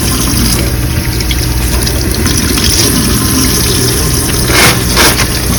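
Water runs steadily from a tap as hands are rinsed under cold water in a dental office, a loud, continuous close-up gush with small splashy changes and no talk.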